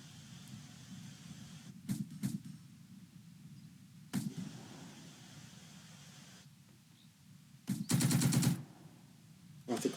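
German machine gun fire sounds in the World War II video game Second Front, with sharp bursts and single cracks over a low rumbling background, capped by a dense, loud rattling burst near the end.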